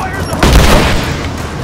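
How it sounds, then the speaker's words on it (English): Grenades explode during combat in Rise of the Tomb Raider, a loud booming blast with a rumbling tail that fades over a second and a half. "Stop throwing grenades."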